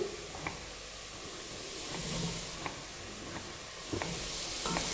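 Pumpkin pieces frying in a pot with oil, onions and garlic give a soft, continuous sizzle, with faint clicks of stirring scattered through it.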